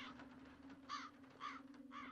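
Three harsh crow caws at even intervals ring out over a constant low drone in the video game Dead Secret, each short and moderately loud with no talking.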